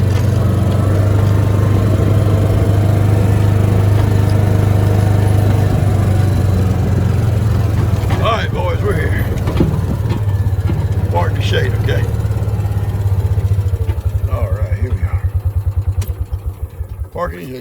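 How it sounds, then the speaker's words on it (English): Small engine running steadily and loudly in the foreground, a lawn mower just back from mowing in the heat, with voices talking over the drone until it tapers off near the end. "He just got through mowing for Kim in the heat"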